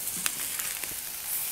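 Prime ribeye steaks seared on a plancha set on a kettle grill give a quiet, steady hiss of sizzling fat with a few faint pops and crackles, close by and soft, with no talk.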